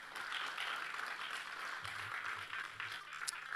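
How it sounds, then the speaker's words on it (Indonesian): A church congregation applauds its praise and worship team with a fairly faint, steady wash of clapping that seems somewhat distant and continues throughout. "Boleh tepuk tangannya diperpanjang buat tim Praise and Worship."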